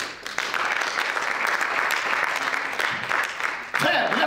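A church congregation applauds at a French-language service, with sustained, dense clapping from many hands lasting several seconds, fairly loud and close, dipping briefly near the end before resuming.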